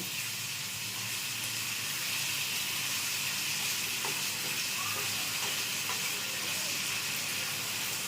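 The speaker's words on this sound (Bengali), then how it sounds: "আমার মাছ সাঁতলানো হয়ে গেছে" Small gang morola fish sizzling steadily in hot oil in a pan, a continuous close hiss and crackle with no pauses.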